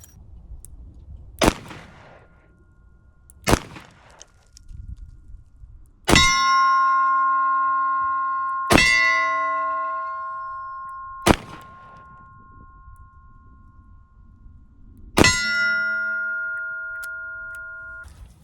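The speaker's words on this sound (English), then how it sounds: "I don't shoot double action enough to be very good at it" Smith & Wesson 629 .44 Magnum revolver fired double action outdoors: six loud, sharp shots spaced a couple of seconds apart, several followed by a long ringing metallic ring, with no talk.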